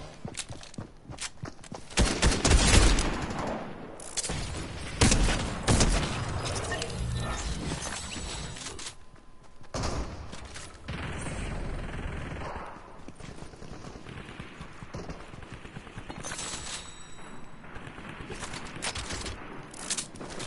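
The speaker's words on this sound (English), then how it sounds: "someone is shooting me" Gunfire in the Fortnite battle royale, sharp cracks and bursts scattered across a busy mix of footsteps and game noise, some shots loud and close, others farther off.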